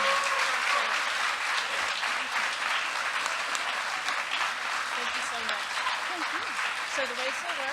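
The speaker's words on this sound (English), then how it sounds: "after the roaring applause I was doing" Steady, dense applause from a sizable lecture audience fills the whole stretch, with a few voices faintly rising above the clapping near the end.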